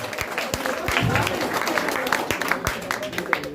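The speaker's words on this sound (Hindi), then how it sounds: "ताली नंदिनी कुमारी के लिए ताली बजाया जाए" Audience clapping for prize winner Nandini Kumari at a study centre prize distribution ceremony in Gaya, a lively patter of many hands with a few sharper claps, moderately loud and continuous over crowd murmur.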